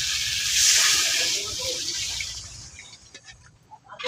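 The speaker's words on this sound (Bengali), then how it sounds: "এখন জল দিয়ে নিতেছি।" Water pours into a pan of shing fish curry in a steady rushing hiss for about two seconds, then tapers into soft splashes and light clinks, close up.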